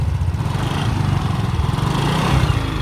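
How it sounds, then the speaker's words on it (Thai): A Yamaha Nouvo SX motorcycle with its stock exhaust runs close by with a steady, throbbing exhaust rumble, loud and continuous throughout. "เดี๋ยวลองฟังตอนเล่นเครื่องให้ฟังนะครับ เสียงท่อยังคงเป็นเสียงเดิมนะครับ"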